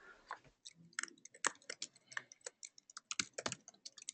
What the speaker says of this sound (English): We can hear some typing.